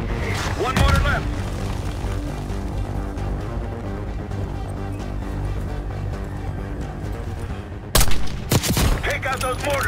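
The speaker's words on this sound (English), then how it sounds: "Got mortar fire! Clear them out." Mortar and gunfire during a Call of Duty Black Ops 6 battle, with a continuous dense rumble of combat and sharp bursts of shots near the start and end, as voices call out over the noise.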